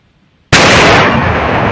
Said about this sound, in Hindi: ये जो ब्लास्ट की आपने आवाज सुनी, दरअसल इसी धमाके को अंजाम